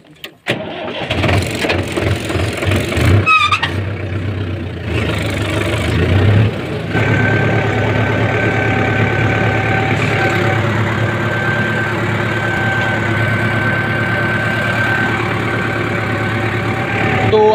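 A farm tractor on a field being loaded with trolleys for moong cultivation, its engine cranking up after a few knocks and clatters, then settling into a loud, steady close-up idle with a constant low drone.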